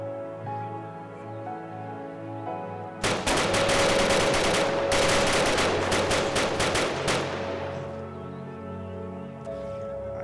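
Sustained automatic gunfire from the Arma 3 combat game bursts in suddenly and loudly after a quieter stretch. The rapid shots run for several seconds in dense volleys, then fade back to a low background hum.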